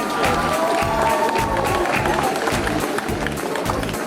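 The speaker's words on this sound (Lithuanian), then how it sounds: "Pakvieskime jį plojimais po žaliuoju skėčiu" Steady applause from a crowd at an outdoor September 1 school-day event fills the space, mixed with a thumping rhythmic music beat underneath.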